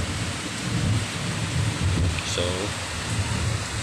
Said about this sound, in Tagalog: kasulukuyang umuulan kasi dito ngayon habang nag-i-edit tayo ng video